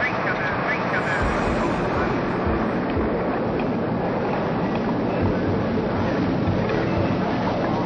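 Explorer 1 rocket launching after a countdown, a loud, steady broadband roar sustained throughout without letup.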